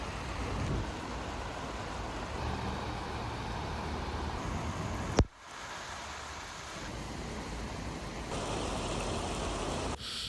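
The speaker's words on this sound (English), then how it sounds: "So next I put it through a heavy rain test." Heavy rain falls on an REI Half Dome 2 Plus tent as a dense, steady hiss, loud and unbroken apart from one sharp cut midway, then continuing at a similar level.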